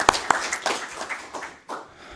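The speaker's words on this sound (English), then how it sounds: "that's worthy of another hand clap" A small group at a city council meeting claps briefly, a few sharp nearby claps opening into a short, scattered round of applause that fades within two seconds.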